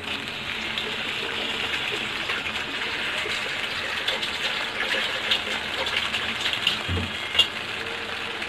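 Water poured into a pan of cauliflower gravy with cooked lentils makes a steady, gushing splash that runs for several seconds, close and fairly loud, with a few small knocks near the end.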